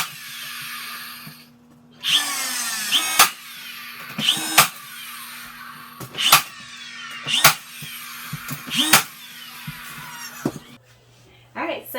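Brad nails fired into cabinet miter joints, a series of sharp, separate pneumatic snaps spaced a second or so apart, close and loud over a faint background hum, with a person talking between shots.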